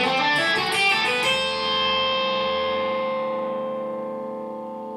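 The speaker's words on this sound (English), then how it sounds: "if you play through a scale and you don't use palm muting, it sounds like this." Electric guitar running quickly through a scale without palm muting, so the notes blur together and the open strings keep ringing, then fading into a long sustained wash over several seconds with no voice.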